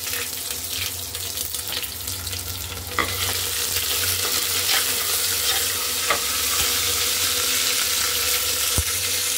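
Chicken biryani masala frying and being stirred in a pan, giving a continuous close sizzle with scraping stir strokes over it. The sizzle grows louder partway through, and no one speaks.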